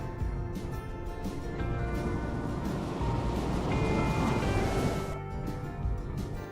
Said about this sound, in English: I put the sound of ocean waves with pirates.